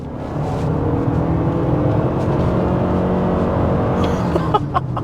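Suzuki Across 2.5-litre plug-in hybrid pulling away under acceleration, heard from inside as a steady engine drone and whir that holds for several seconds, with a slight change in pitch near the end and faint ticks.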